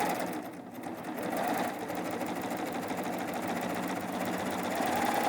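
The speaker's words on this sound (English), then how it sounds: "I'm going to put my foot down, and we're going to serge this." A serger stitches wide elastic onto fabric, running at a steady fast whir with a constant mechanical hum and a slight dip in speed early on, near and continuous with no talk.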